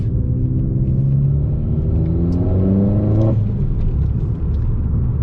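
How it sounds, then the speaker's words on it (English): An Audi A1 fitted with an induction kit and blow-off valve revs hard from inside the cabin, its loud engine note climbing in pitch for about three seconds before the throttle lifts sharply and the sound drops to a low rumble. "I love the sound of my car, the blow-off valve, the induction kit, the exhaust"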